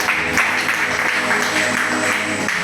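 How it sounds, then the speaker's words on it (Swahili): A church congregation claps together in praise, a dense, loud and continuous burst of many hands filling the room. "Tupigie Yesu makofi"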